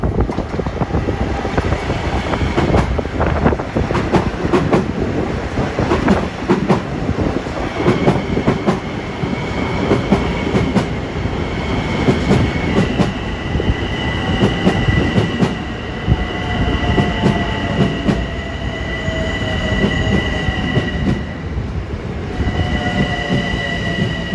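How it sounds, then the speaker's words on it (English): Long Island Rail Road M3, M7 and M9 electric trains and diesels roar through Woodside station during the evening rush, loud and continuous with rumbling wheels, clickety-clack and high squealing wheel tones rising and fading over nearly half a minute. "here comes train 80, Long Island City to Patchogue at 447, running down track number 1"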